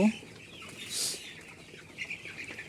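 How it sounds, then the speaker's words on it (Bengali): Thirteen-day-old broiler chicks in a shed with damp litter during winter give faint, scattered chirps and soft clucks at low level, a few brief calls against a quiet background. "আলহামদুলিল্লাহ মুরগিগুলো সুস্থ আছে"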